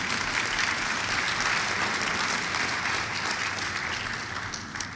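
A church congregation applauds during a sermon, a steady wash of clapping from many hands that holds level throughout and thins slightly toward the end, with no voices over it.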